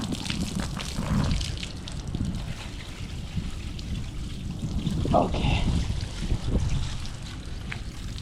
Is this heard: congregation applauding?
no